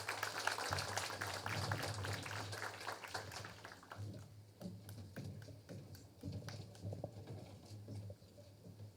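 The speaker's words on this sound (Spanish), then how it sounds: "Fuerte aplauso." Audience applause at a law forum, dense crackling clapping that fills the room and gradually thins out, moderately loud with a steady low hum underneath.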